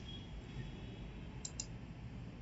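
Two quick, faint mouse clicks land about a tenth of a second apart, sharp and close, over a steady low hum of room noise while someone works on a computer console.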